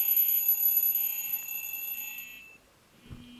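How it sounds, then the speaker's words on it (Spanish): An alarm clock rings at 5:30 in the morning with a steady high electronic beeping tone that continues for over two seconds, then cuts off, followed by a brief low thump. "Sí, amigos, el despertador. Bendito despertador."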